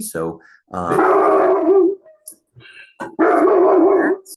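A dog barks and howls in two long, drawn-out bursts close by, with brief yips in between.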